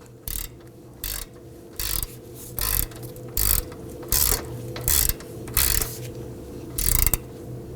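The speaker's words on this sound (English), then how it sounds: "Let's torque down our pinch bolt here to 36 foot-pounds." A click-type ratchet torque wrench tightens a steering knuckle pinch bolt on a 2005-2009 Subaru Legacy, giving eight evenly spaced bursts of ratcheting clicks, close and clear, with no voices.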